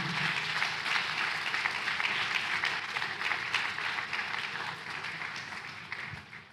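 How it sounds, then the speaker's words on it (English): Dense audience applause after a literary conversation at a festival, a steady wash of clapping that gradually thins and fades toward the end. "A round of applause for him."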